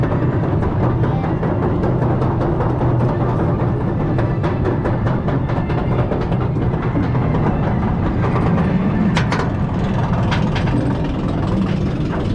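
DarKoaster roller coaster at Busch Gardens, ridden in the front row at night, rumbles and clatters steadily from start to finish. The rolling and rattling of the track carries on without a break, loud and close, with no talking.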